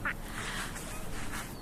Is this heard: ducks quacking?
yes